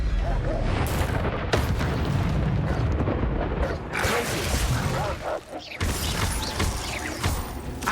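Confringo blasting-spell explosions in Hogwarts Legacy, dense booming and crackling bursts over a busy rumbling game soundscape, loud and continuous with a brief dip before another blast.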